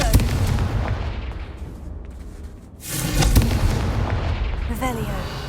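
Confringo fire spell from the Hogwarts Legacy video game: a burst erupts with a loud booming explosion that carries a crackling, rumbling tail over steady game ambience.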